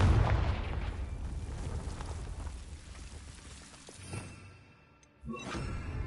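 The Confringo blasting spell goes off in Hogwarts Legacy, a crackling explosive burst with a rumbling, rain-like spray of debris that settles quietly, then flares up again near the end.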